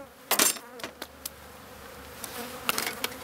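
Bees from an open hive colony buzz close by. Loud passes by individual bees come through in quick bursts over a steady drone from the rest of the swarm.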